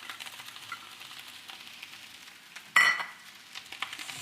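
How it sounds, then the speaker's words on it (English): Shredded cabbage sautés for homestyle Chinese fried rice, a faint, steady sizzle in the pan broken by one louder scraping stir near the middle. "So just gonna saute our cabbage"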